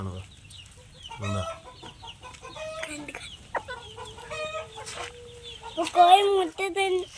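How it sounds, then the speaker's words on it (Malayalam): Chickens clucking and calling close by, a series of short bursts and drawn-out cackles growing louder toward the end, with some muffled talk faintly underneath. "കോഴി മുട്ടയിട്ട് കഴിഞ്ഞാല് ഇത് തിന്നിട്ടാണല്ലോ മുട്ടയിടുന്നത്"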